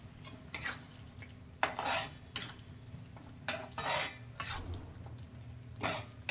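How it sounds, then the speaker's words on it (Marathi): Fried prawns being stirred into a gravy in a pot for prawn biryani, with soft bursts of scraping and spoon-against-metal clatter over a low sizzle, fairly faint, no talk. "आता आपण हे फ्राय केलेले प्रॉन्स याच्यामध्ये टाकूयात"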